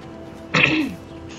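A character in Life is Strange clears their throat once, a brief rough burst lasting about half a second, close and fairly loud against a quiet background.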